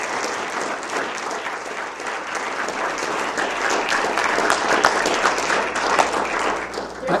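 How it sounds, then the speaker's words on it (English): A large audience at a 2014 university alumni speaker event breaks into sustained, dense applause, steady and close throughout with many hands clapping at once. "let's give him one more round of applause"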